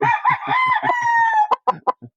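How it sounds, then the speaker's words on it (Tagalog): A rooster crows in one long drawn-out call, followed by a few short clucking notes, fairly close and clear with no one talking. "may manok sa baba"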